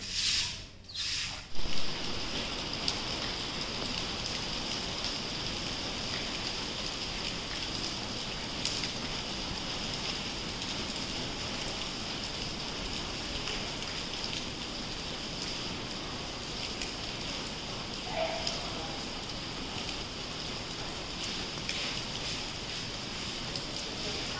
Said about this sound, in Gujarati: અમારા અહીં ઝરમર ચાલુ જ છે સવારનું. ઘડીક ફાસ્ટ, ઘડીક નહીં, ઘડીક ધીમો એવું છે.